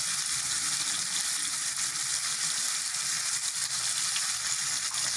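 Black pepper and paprika sizzle and fry steadily in a hot pan, a loud, continuous hiss that stays even from start to finish with no talking.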